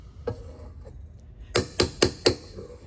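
A mixing bowl is knocked loose and lifted off a stand mixer while making pumpkin chocolate chip cookie dough: a faint tap early, then four sharp, close knocks in quick succession near the end.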